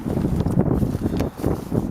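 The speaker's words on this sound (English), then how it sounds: "You can hear the flag flapping in the breeze." A flag on a flagpole holder beside an antique Civil War cannon flaps in a stiff outdoor breeze, giving a steady rough rumble with uneven gusty pulses and no talk.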